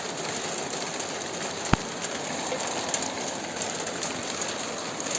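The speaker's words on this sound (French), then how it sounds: "Comment il pleut." Rain falling steadily during a weak to moderate late-evening thunderstorm, a dense continuous hiss of drops with one sharp click partway through; no voices.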